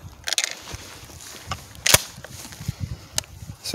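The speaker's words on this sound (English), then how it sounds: "We're gonna load it into our shotgun." A CR2 lithium battery is loaded into a shotgun at an outdoor range with steel plates, giving sharp close metallic clacks and clicks, one prominent snap midway and another later, over low background rustle.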